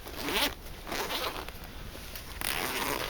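Zipper on a padded kit bag being pulled open in a few quick rasping strokes, close and fairly loud, with short pauses between the pulls.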